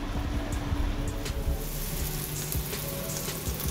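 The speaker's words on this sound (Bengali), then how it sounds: "সেগুলোই গরম গরম ভেজে নিচ্ছি" Marinated spiny gourd (kakrol) slices coated in gram flour and flour batter fry in hot oil, giving a loud, dense, continuous sizzle with crackling pops close by.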